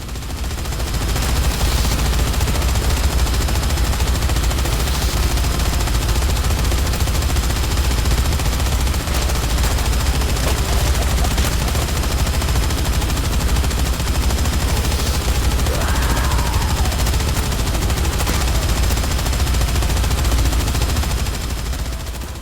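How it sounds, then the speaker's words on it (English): Guns firing at zombies in the video game Dead Rising 3, dense continuous rapid gunfire that stays loud and unbroken throughout, like sustained machine-gun bursts, with no talking. "You think we can kill 100 zombies with guns?"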